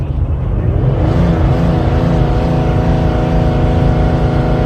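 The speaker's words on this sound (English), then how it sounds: "That's the transmission automatically downshifting right there in the second gear" Cummins diesel tow truck with compound turbo and automatic transmission downshifting into second gear, a loud, close engine drone with a steady low rumble and a shift in pitch as the gear changes, no talk.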